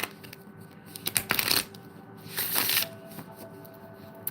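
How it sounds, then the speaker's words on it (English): Tarot deck of Lo Scarabeo cards being shuffled by hand, two bursts of riffling flutter with soft card clicks between them, close and alone in a quiet room. "So I'm going to shuffle and pull a card for the collective from this deck."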